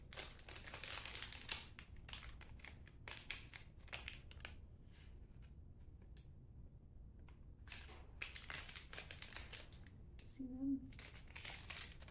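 Plastic bag and paper envelope holding geranium seeds rustle and crinkle in close, irregular bursts, with quieter pauses between handlings; a voice is faintly present.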